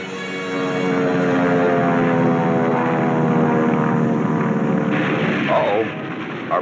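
A 20-ton four-motored Kawanishi search seaplane drones loud and steady, a thick harmonic engine roar that holds for several seconds before easing slightly and shifting as it passes.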